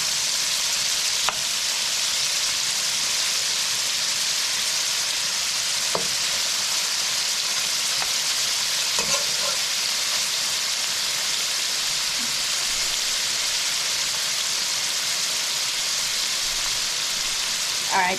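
Food sautés in a pan ahead of the bok choy for a bok choy and shrimp dish: a steady, close frying sizzle with occasional scraping stir strokes and light clinks, and no talk.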